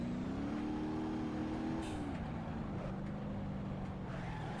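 In the driving game BeamNG Drive, a car engine hums steadily, then drops in pitch as a gear shifts and keeps droning at a moderate, even level.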